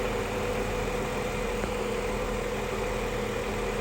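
A 2008 Honda CR-V engine idles steadily while the steering wheel is turned, giving an even, continuous mechanical hum with faint vibration and no distinct clicks or whines.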